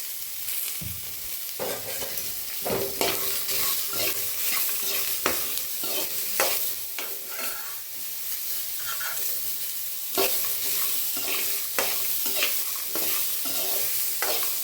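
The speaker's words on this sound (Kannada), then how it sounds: "ಚೆನ್ನಾಗಿ ಬೇಯುತ್ತೆ ಟೊಮೊಟೊ, ಆಗ ಬೇಗ ಬೇಯುತ್ತೆ." Tomatoes fry in a pan for coconut chutney, a continuous sizzle broken by repeated scraping and stirring strokes of a spoon against the pan, close and alone without talk.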